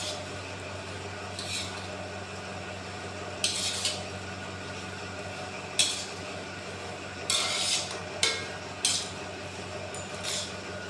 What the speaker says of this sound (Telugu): ఇప్పుడు అంతా మిక్స్ చేసుకుందాం